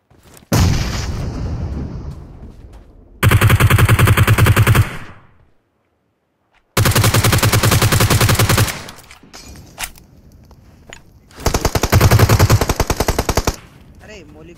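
Loud automatic gunfire in a PUBG Mobile squad match comes as several long rapid-fire bursts separated by short pauses and scattered single shots, close and dominant, with brief talk between.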